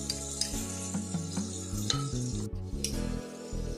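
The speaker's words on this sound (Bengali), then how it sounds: "মশলাটা আমি ভালোভাবে কষিয়ে নিলাম।" Onion, ginger-garlic, cumin and pepper pastes fry loudly in oil for handi chicken, with a steady close sizzle and the clink and scrape of a spoon stirring against the pot, and no talking.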